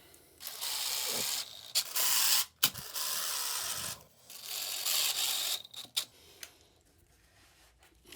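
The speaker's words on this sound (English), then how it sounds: "we're going to screw the 2 flanges together with these." Stainless steel screws being driven to join two toilet flanges, heard as several bursts of a close, whirring power driver separated by short pauses, with clicks and handling between runs and no talking.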